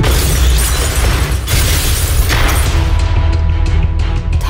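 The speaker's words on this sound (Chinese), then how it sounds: "欣赏最完美的烟花表演，就应该等整个城市都黑麻麻" Fireworks bursting over a dark city in a crime action film trailer, a dense run of loud booms and crackling explosions layered under a heavy score, with a sustained musical tone near the end.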